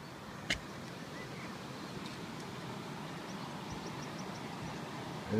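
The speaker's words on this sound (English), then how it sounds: "There's the water rushing over the weir, away to my left." Water rushing over a weir on the River Thames makes a continuous broadband roar, heard from a distance off to one side, with no talking.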